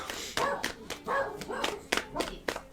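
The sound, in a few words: dog barking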